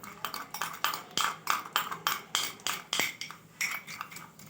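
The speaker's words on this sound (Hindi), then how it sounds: "इस तरह इसको मुसलसल जो है ना हमें मिक्स करते रहना है, इसको तेज़ हाथ से" A spoon whisks a coffee mixture by hand for cappuccino, quick regular metallic clinks and scrapes against the cup repeating steadily and close up throughout.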